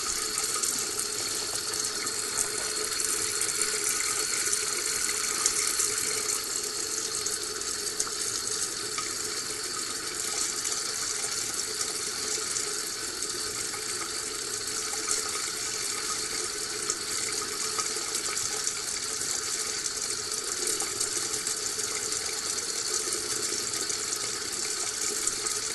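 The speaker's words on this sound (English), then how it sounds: "the water is going straight from the tap down into the sink" Tap water runs steadily from the tap straight into a sink, a constant hissing splash that continues unchanged throughout with no voices.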